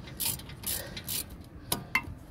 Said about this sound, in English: Just remove this guide bolt